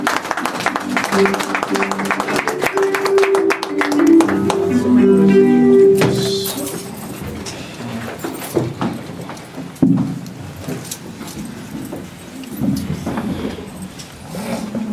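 A church congregation applauds and cheers in praise to the Lord, a dense crowd clapping blended with voices, loud at first and then thinning to scattered claps and murmurs.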